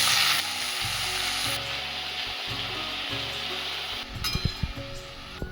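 Chopped note shak greens go into hot oil with ginger and green chilli, sizzling loudly and steadily up close, then a few knocks and stirring clatters near the end, with no voices.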